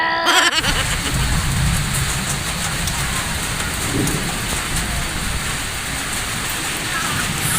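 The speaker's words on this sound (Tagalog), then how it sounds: "Sasahod sila sa ulan." Heavy rain pours steadily and loudly, a dense constant hiss of drops on surfaces with a low rumble beneath.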